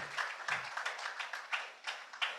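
Short burst of audience clapping for panelists at an alumni business event, several soft, rounded waves of applause in quick succession, close and moderately loud with no talk over it.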